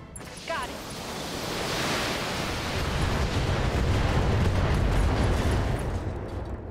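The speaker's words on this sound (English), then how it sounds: "Nice, LRM ammo explosion." An LRM ammunition explosion in the BattleTech video game, a loud rumbling blast that swells and stays as a broad roaring wash for several seconds.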